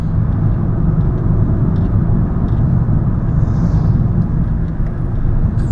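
A 2011 VW GTI with a DSG gearbox drives along, its engine and road rumble steady and close from inside the cabin, with no distinct shift break standing out.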